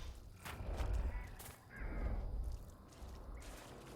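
Birds caw loudly in a Dragon Age Inquisition game scene, a few harsh crow-like calls spaced across the moment over low rumbling ambience.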